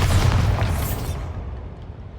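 A Bombarda spell explodes in the video game Hogwarts Legacy: a single loud, close boom with a deep low burst that fades out over about a second.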